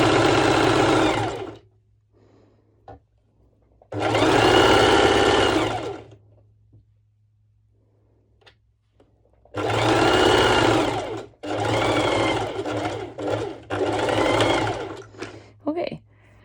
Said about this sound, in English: and doing the zigzag stitch over.